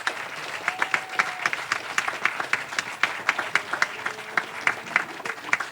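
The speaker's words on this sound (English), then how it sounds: "Please, let's clap for him." A concert audience claps for a man, a crowd applauding with distinct sharp individual claps standing out above the steady patter.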